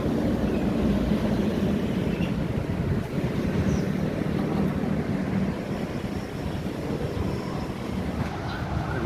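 Steady seaside wind buffeting the microphone with a low, continuous rumble of waves at low tide beside a waterfront restaurant, unbroken and even throughout.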